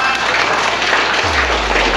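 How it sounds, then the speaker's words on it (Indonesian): An audience at an organization's anniversary gathering and national work meeting applauds, a dense steady wash of clapping throughout, with a low hum entering partway. "Tepuk tangan buat kita semua."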